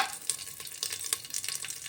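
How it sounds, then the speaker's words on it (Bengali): Whole cumin seeds, bay leaves and dried red chillies frying in hot oil, a close, continuous crackling sizzle with quick spatter pops and light stirring clicks, no voices over it. "ভালো করে প্রথমে জিরে আর তেজপাতা শুকনো লঙ্কা ভালো করে একটু ভাজা ভাজা করে নিচ্ছি।"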